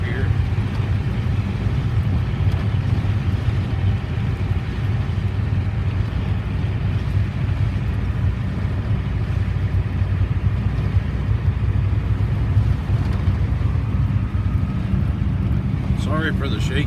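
A vehicle drives along past a hayfield pasture, its engine and road rumble droning steadily and close throughout with little change in level.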